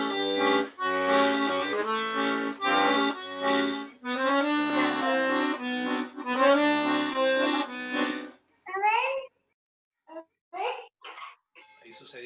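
Accordion with three reeds per note sounding in the left-hand bass register, a run of rich, reedy sustained chords and notes for several seconds, then sparser short tones trailing off with gaps of silence.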